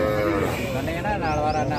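A native-breed cow at the old fort cattle market gives a long, loud, close moo that wavers in pitch and carries over the ambient noise of the market.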